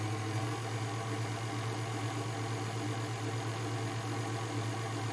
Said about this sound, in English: mix it on low, get the dry ingredients to mix in with the whipping cream.